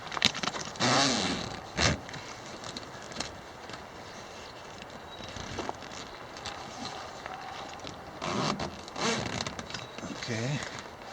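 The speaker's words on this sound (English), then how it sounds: "Now I think you're supposed to finish your zippers?" A zipper on a Jeep soft top, a BesTop, rasps closed in several short bursts close by, with pauses between pulls and rustling fabric around them.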